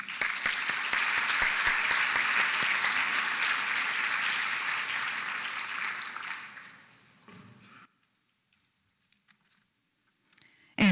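An audience at a college science and mathematics awards ceremony claps for an award recipient with sustained, fairly loud applause that fades out after about seven seconds and leaves near silence.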